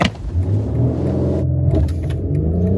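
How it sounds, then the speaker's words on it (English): BMW X3 M40i engine roaring hard under a launch from standstill, a loud, steady low rumble inside the cabin that holds strong and builds for a few seconds. "We'll do one more launch now that it is clear."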